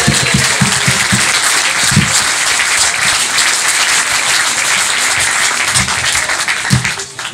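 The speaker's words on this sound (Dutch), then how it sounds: "dan wil ik graag een applaus" Loud, steady applause from a carnival gathering at a residence, sustained crowd clapping with occasional heavier individual claps and some cheering mixed in.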